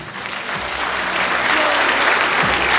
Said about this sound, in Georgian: ბრავო ბავშვებო ტაში